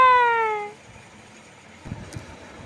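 A single clear cat meow, loud and close, followed by quiet and a few faint knocks.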